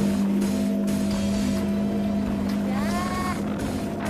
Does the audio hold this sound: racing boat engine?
yes